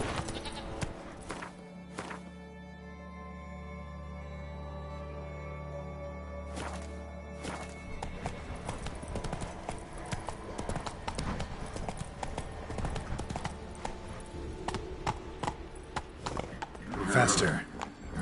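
Roach the horse galloping in The Witcher 3, rhythmic clip-clop hoofbeats building to a fast run, joined by sheep or goat bleats and a brief whinny, with game music and a voice talking.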